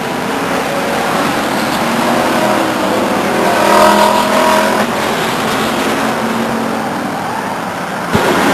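Stock cars race at Stockton 99 Speedway, a loud continuous roar of several engines coming off turn four and swelling as the pack passes close by, with no talk over it.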